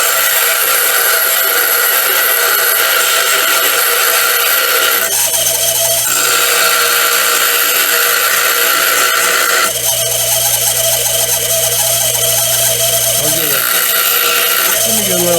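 Loud, continuous grinding whine of a bench grinder sharpening a drill bit, with shifts in pitch and intensity as the bit is pressed and eased.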